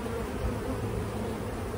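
Honey bees buzz around an open hive box holding a swarm, a dense, continuous drone of many insects close by, steady and unbroken throughout.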